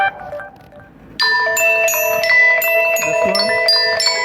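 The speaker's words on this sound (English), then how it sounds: "So which bell or which ringtone you need it." A WhatsApp notification ringtone preview plays loud and alone as bright, repeating electronic chime tones in a steady melodic rhythm, after a quieter stretch at the start.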